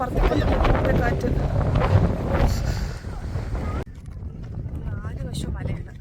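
Gusty mountain wind near Marayoor in Munnar hits a phone microphone with a loud, steady low roar, easing abruptly partway through and carrying on at a lower level.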